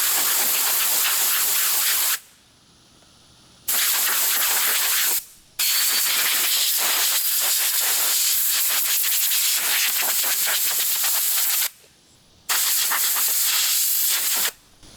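Compressed air hisses loudly through an excavator air filter being blown out, in long, close bursts broken by short pauses, with no talking.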